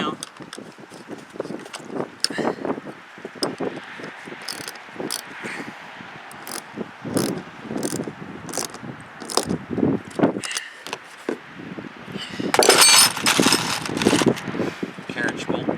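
Bolts on a MaxxAir RV vent cover on a 1998 Bounder motor home being tightened, with rapid ratchet clicks and metallic clatter in close, busy bursts and a brief louder rattle near the end.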